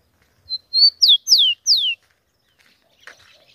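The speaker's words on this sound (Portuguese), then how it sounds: "tinha o tico-tico solto cantando muito" A rufous-collared sparrow sings a short, clear phrase: a thin whistle followed by three bright descending notes, close and loud against near silence.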